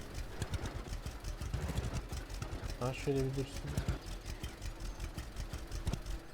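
A tractor engine idles in Lumberjack's Dynasty, a steady, faint mid-pitched chugging with regular pulses running under a man's brief speech.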